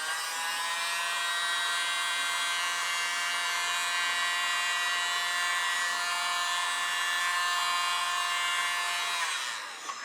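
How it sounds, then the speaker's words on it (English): A hair dryer blowing on poured paint in fluid art blows with a steady, high electric whir for about nine seconds before switching off. "I'm not sure I'm very good with this dryer yet,"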